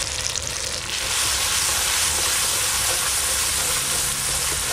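Spice paste of mustard paste, poppy seed paste and turmeric sizzles steadily in oil with melted tomatoes, a close, dense frying hiss that swells after the first second and holds loud and even.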